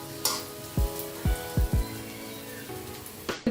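Food fries in a pan with a steady soft sizzle, broken by a few low thumps and clatters of handling nearby.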